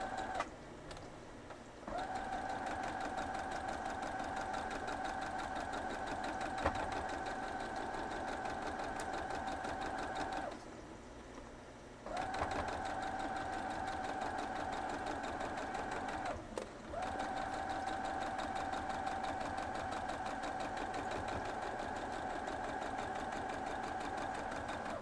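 A sewing machine stitching quilt block pieces, a steady close mechanical hum and whir running in long passes, stopping briefly twice before starting up again.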